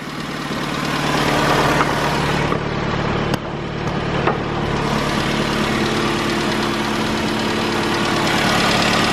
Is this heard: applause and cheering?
no